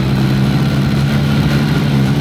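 Motorbikes ride through busy traffic in Vietnam, with a continuous, close engine drone and road noise filling the whole stretch at steady loudness, with no talk.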